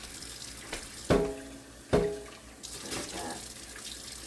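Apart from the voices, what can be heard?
measuring water for pickle brine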